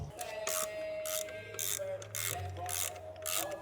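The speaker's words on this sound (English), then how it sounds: "I think I'm just gonna start unbolting stuff and see what happens" A hand ratchet clicks in rapid bursts while unbolting parts from an old engine untouched for over thirty years. The loud, close ratcheting comes in several separate pulls, and no one talks over it.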